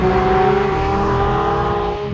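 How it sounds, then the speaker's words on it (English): A high-performance car's engine revs hard on a race track, a loud, close, sustained drone with steady tonal harmonics that eases slightly near the end. "Just listen to that bleeding engine as well"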